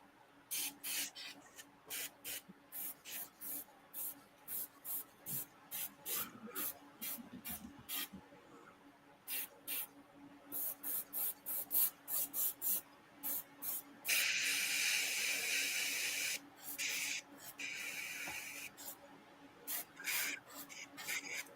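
Short hissing bursts of spray paint, dozens of quick repeated puffs in an uneven rhythm, with one longer sustained spray in the middle, close and moderately loud with no talking.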